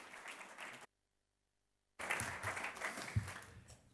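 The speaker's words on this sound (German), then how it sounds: "Großer Applaus für den Thomas" Audience applause at an IT security conference in Austria, a moderate clapping wash that breaks off into a second of silence, then resumes with a bit more energy and one sharper clap.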